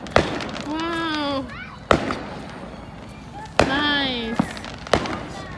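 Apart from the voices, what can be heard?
fireworks exploding on 4th of July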